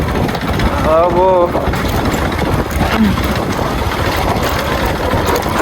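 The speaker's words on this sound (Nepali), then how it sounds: "बढी बाइकको आवाज आउँछ" A motorbike engine rides over a rough off-road track, a loud, continuous close-up rumble that barely changes. A voice briefly speaks over it.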